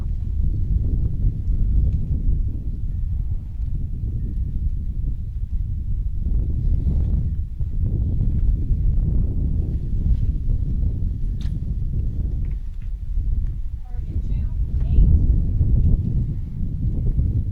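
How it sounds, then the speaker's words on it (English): Steady low wind rumbles across an outdoor archery range during a men's recurve gold final, a continuous buffeting roar at the microphone with faint knocks over it. "But the wind's picked up on him."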